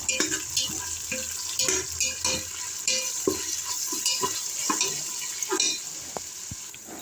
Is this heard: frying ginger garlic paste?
yes